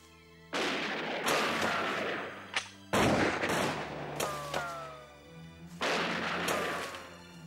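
Gunfire in an animated pirate show, with bursts of loud blasts and cannon-like booms in several rolling volleys and short gaps between them.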